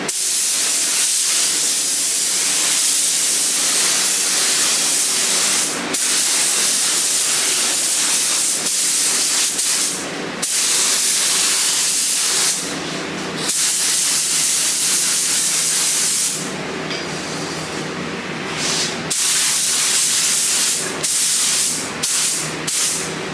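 Sealer is sprayed from a can onto car parts in a steady loud hiss, broken by several short pauses and quick bursts.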